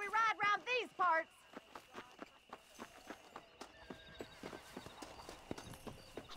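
Horse hooves clip-clopping in Red Dead Redemption, preceded by a short burst of whinnying, then an even, close trotting rhythm of sharp hoof strikes that gradually thins out.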